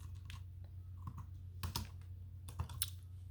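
Quiet, close clicks of a computer keyboard being typed on, a short flurry of keystrokes tapping in a small burst with brief pauses, over a low steady hum.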